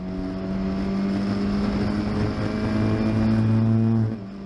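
Historic Formula Ford race cars howl past on the Oulton Park circuit, a loud steady engine drone with rising and falling pitch that fades at the end.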